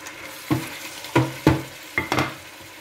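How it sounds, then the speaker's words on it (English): A spoon stirs coconut rice with curry powder and a seasoning cube in a pot, four or five distinct scraping, sizzling strokes at a steady pace, close and fairly quiet. "Stir everything together,"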